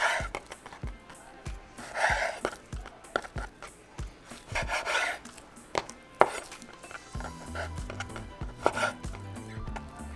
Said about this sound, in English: we're going to cut it into thin slices